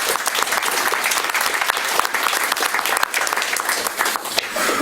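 A large audience at a city State of the City address applauds warmly, a dense, sustained wash of many hands clapping for several seconds without pause.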